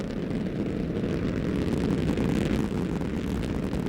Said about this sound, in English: And liftoff of Space Shuttle Columbia on a mission combining science and the practical